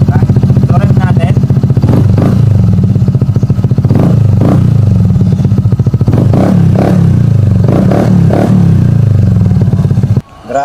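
A Honda ADV 160 scooter fitted with a full-system aftermarket muffler idles with a deep, throbbing burble. It is punctuated by repeated sharp throttle blips, each rising and falling, and sits close and loud before cutting off near the end.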